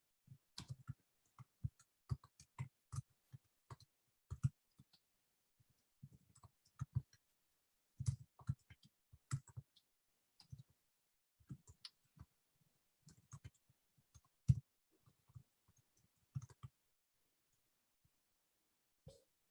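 Quiet, close clicking of keys on a computer keyboard, typed in irregular bursts with pauses between, the taps sparse and light, with no talking.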